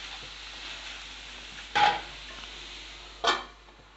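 A lid is set onto a cooking pan of onion and egg curry, giving two short metallic clanks a second and a half apart against quiet kitchen background noise.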